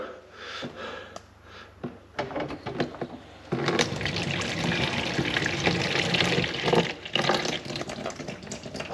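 Tap water gushes steadily in a workplace canteen after a freezing spell, the running stream loud and continuous from mid-clip onward after some quieter handling noises at the start.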